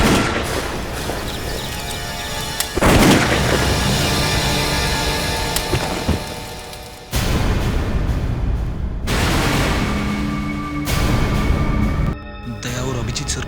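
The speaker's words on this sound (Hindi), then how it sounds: "टैंक को ही गोली से उड़ा देता हूं।" Loud bursts of gunfire aimed at a tank in a dramatic police-series scene, with booming, explosive cracks that rise and fall in dense waves, cut by brief silences and abrupt scene changes.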